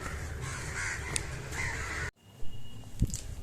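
Crows caw at night, the calls fairly faint and scattered over a steady background hiss, which breaks off abruptly partway through before a few more caws sound.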